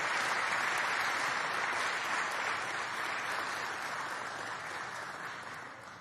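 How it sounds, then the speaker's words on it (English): A large audience applauds the governor at a political event on the infrastructure agenda, with dense, sustained clapping that fills the room and slowly tapers toward the end, no speech over it. "Let's give the governor another great round of applause."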